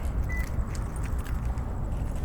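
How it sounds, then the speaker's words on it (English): Keys jangle in short metallic bursts while locking up at a shopping center plaza in Mesa, Arizona at midnight, close and crisp over a low rumble of distant traffic. "Get my keys and lock up again."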